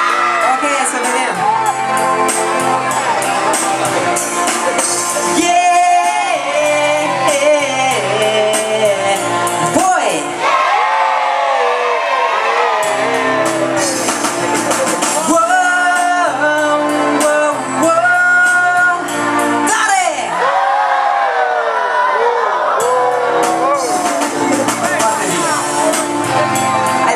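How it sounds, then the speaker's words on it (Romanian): A large crowd at an outdoor event in Beclean shouts and cheers loudly and continuously, with music playing and voices carrying over the roar throughout. "Credeți că puteți să strigați atât de tare încât să se audă de aici, din Beclean, în tot județul?"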